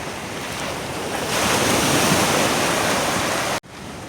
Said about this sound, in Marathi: तर लाट अशी छोट्या लाट आहेत.